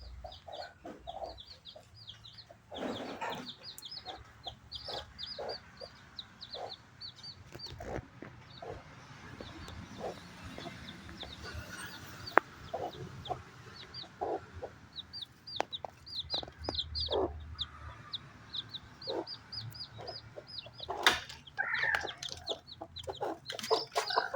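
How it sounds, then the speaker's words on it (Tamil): Native chicken hen and newly hatched chicks clucking continuously, with repeated high chick peeps and lower hen clucks close by over a farmyard background, no talking. "குஞ்சு பொரிச்சிருக்கு"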